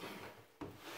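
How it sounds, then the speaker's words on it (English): A wooden DIY barn door being flipped and laid down on a table, a short rubbing scrape of wood followed by a soft knock as it settles, close and quiet. "as I flip it over, lay it on the table"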